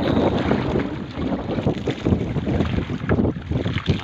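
Strong wind gusts buffet the microphone while a small boat floats on open sea at night, with waves sloshing and rumbling in a loud, continuous, uneven roar.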